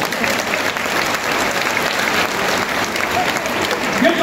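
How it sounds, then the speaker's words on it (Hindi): Loud, sustained applause from the audience at a Hindi comedy poetry gathering in Gorakhpur, with dense clapping throughout and a faint background murmur. "हमारी अंतरिक्ष की संस्था इसरो के लिए जोरदार तालियां बजाएं"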